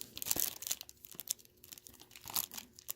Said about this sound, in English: Let's open this military ration spoon.